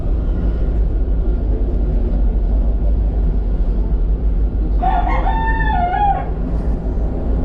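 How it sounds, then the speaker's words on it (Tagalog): A rooster crows once, a single drawn-out call at moderate distance, over a steady low rumble of engine or wind noise. "Manok."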